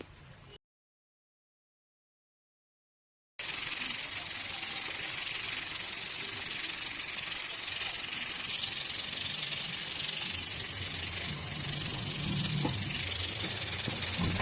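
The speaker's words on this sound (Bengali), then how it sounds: "সর্ষের তেলটাকে গরম হতে দিয়েছি, আর এতে আমরা ওই ছানার বড়াগুলো ভেজে নেব এক এক করে।" Chhana fritters sizzle and hiss in hot mustard oil, a steady close frying noise after a brief silent gap, with no talking.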